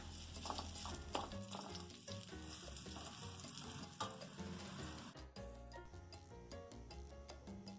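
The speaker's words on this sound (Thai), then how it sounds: "เราก็จะเจียวกระเทียมให้เหลืองหอมเลยนะคะ" Garlic frying until golden for a Thai clear soup, a steady close sizzle and crackle of hot oil that runs throughout with no voices.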